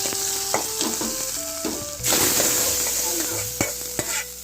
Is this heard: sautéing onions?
yes